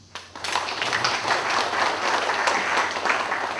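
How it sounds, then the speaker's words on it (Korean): Audience applause fills a church lecture hall, swelling quickly after a brief quiet start into sustained, dense clapping from many hands that holds steady and loud throughout. "이 박수는 우리 하나님이 받으실 박수인 줄로 압니다"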